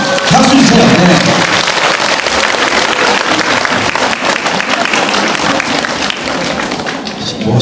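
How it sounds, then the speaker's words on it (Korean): Loud, dense applause from an audience at a student presentation and awards event, continuous clapping close to the recording with a few thumps, some murmuring voices mixed in and the sound easing slightly near the end. "박수 주세요"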